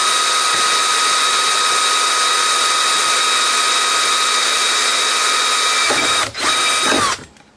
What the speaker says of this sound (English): drill a hole through the chassis.